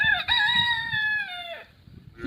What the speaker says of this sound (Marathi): कोंबडे वरडतात